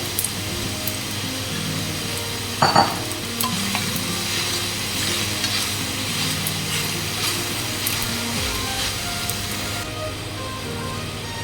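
Cabbage and other vegetables are stir-fried with chicken for a chopsuey, giving a steady close sizzle with a brief clatter of the spatula, heard alone without talk.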